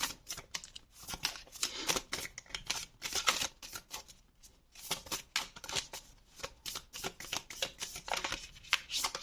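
Tarot cards are shuffled close by in quick, papery riffles and flicks, bursts of crisp slapping with short pauses between, fairly quiet and with no talking.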